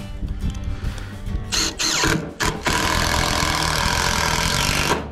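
A power drill drives a screw straight through a 2x4 resting on aluminum sawhorses with no pilot hole, a loud steady motor whine broken by brief pauses and bursts.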